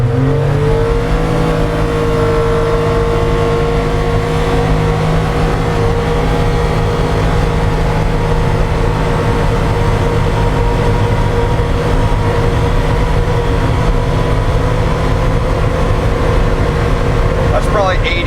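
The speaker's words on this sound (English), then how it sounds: "There's a lot more engine noise" Tuned Polaris 1500 engine pulls hard in a low gear under tow-haul mode, a loud, steady rising drone that holds without a break, with brief talk over it.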